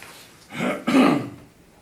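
A single close throat-clearing cough in two short bursts, loud against a quiet background.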